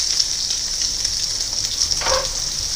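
A pork chop fries in a pan with butter and oil, giving a steady, close hiss of sizzling throughout, with a brief clink near the end and no talk.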